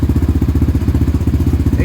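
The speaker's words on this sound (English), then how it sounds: "Exhaust sounds real good" A 2007 Yamaha Raptor 700R ATV single-cylinder engine through a LEXX MXE exhaust, idling up close with a fast, even thumping pulse.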